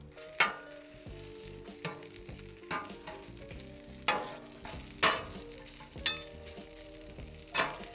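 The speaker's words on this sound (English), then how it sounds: "First, throw down some butter, throw down our rice." Already-cooked rice frying in butter in a pan, with a steady sizzle and sharp scraping stirs roughly every second, moderately close and with no talk over it.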